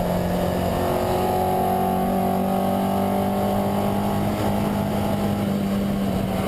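A car accelerating hard on the Nürburgring racetrack, its engine a loud, sustained droning roar from inside the cabin, steady for the whole stretch without talking.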